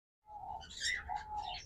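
A pair of large lutino Fischer's lovebirds gives a short burst of sharp, high chirps and squeaky calls, close by and fairly faint.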